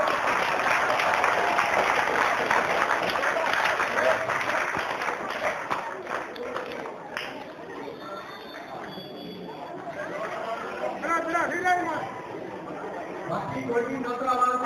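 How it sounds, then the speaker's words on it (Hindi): A crowd at a Hanuman seva event at the Salasar Dham temple gives loud, sustained applause, dense clapping that fills the space throughout and swells again near the end, with chatter mixed in. "तो एक बार जोरदार तालियां"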